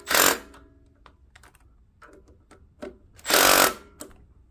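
Fasteners being tightened on a Craftsman 3300 psi pressure washer water pump, with two loud bursts of a ratcheting tool amid scattered clicks and taps of metal, close up, no voices.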